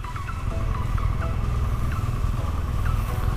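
A motorcycle engine runs steadily close by with a constant rumble and rushing, churning noise as it rides through a shallow stream under a waterfall on a mountain road near Santa Teresa, Peru.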